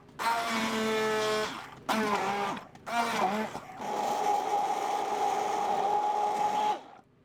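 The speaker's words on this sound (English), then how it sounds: "I'm just using my immersion blender. I'm gonna puree it super smooth" An immersion blender purees strawberries until smooth in several loud bursts, with a high whirring motor whose pitch bends and wavers as it cuts through the fruit. There are brief pauses between bursts, then one long, steady run.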